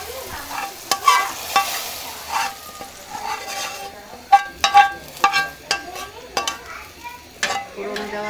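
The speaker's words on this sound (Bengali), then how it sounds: "এখন আমি দিয়ে দিচ্ছি ফোড়নটা" Sizzling tempering poured into goat trotter nihari, a crackling fry with repeated sharp scraping and clanking strokes of a spoon against the pot in an irregular rhythm, close and fairly loud with no talk.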